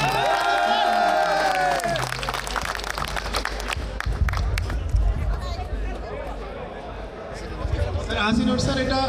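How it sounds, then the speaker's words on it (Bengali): Crowd applause and cheering for the player of the match at a men's cricket match, a sustained burst of clapping under an announcer's voice, fading into mixed crowd chatter. "হাসিনুর রহমানের জন্য সবাই সম্মিলিত হয়ে জোরে করতালি"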